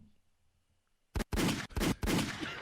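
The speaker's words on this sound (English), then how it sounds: "pushed the gunshots button" A gunshot sound effect fired from a soundboard button: after a quiet lead-in, a burst of several loud, sharp cracks rings out in quick succession, close and dominant.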